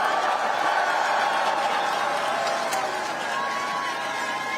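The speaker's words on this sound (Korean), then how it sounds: "우리 네 분 국회의원 앞으로 더 잘하라고 한 번만 더 박수 부탁드립니다." A crowd at an outdoor campaign rally in Yongin cheers and claps, producing a continuous, even wash of applause and voices, moderately loud and sustained throughout.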